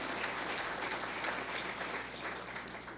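Audience applause at an early college graduation ceremony, a dense steady wash of many hands clapping throughout, heard at moderate distance with no voices over it.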